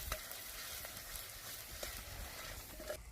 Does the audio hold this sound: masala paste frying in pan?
yes